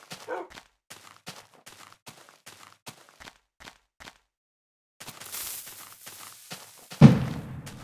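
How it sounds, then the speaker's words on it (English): Minecraft fireworks going off in the video game: scattered soft clicks and taps, then a swell of hissing crackle and one loud, deep boom near the end. "Boom. Fireworks."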